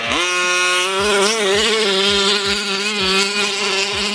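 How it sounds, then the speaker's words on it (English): A petrol 1/5 scale RC truck engine runs close and loud, a buzzing two-stroke drone that rises and falls as the throttle is blipped repeatedly in quick succession. "you need to feel a proper petrol 1/5 scale truck"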